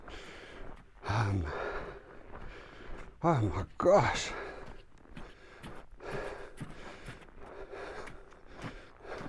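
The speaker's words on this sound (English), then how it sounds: "you guys must forgive the loud breathing" Heavy, loud breathing from someone walking in snow in West Vancouver, with sharp gasping and snorting breaths standing out over soft footsteps. A brief spoken exclamation comes partway through.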